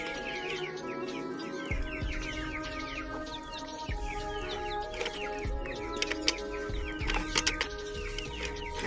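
Desi and tiger chickens cluck and chirp while they eat dry feed. The calls come in busy, overlapping bursts close by, with a few sharp pecks and knocks underneath.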